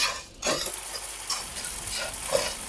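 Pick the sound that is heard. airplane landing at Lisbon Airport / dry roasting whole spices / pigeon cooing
dry roasting whole spices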